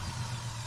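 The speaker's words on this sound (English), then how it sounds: "start the engine" A Chrysler car engine with a misfire from a bad ignition coil runs steadily at idle, a low, even rumble close by with no speech.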